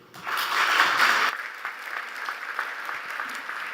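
Loud applause from an audience at the Samsung Ho-Am Prize award ceremony, a dense burst of clapping that swells right away and fades to a lighter, scattered patter after about a second and a half.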